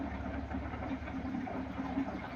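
A train in a lawn mowing video game rumbles past in a steady, continuous low drone with a faint engine hum, holding even loudness throughout with no talking.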